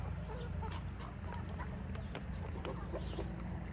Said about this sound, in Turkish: Kel burunlu horozumuz.